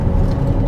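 A Ferrari 512 TR drives along with a steady, close engine rumble, a brief continuous drone with no voices.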